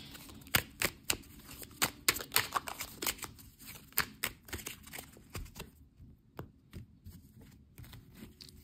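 Tarot cards shuffled by hand, quick papery riffles and soft taps in rapid irregular bursts, close and fairly quiet over a low hum, thinning out toward the end.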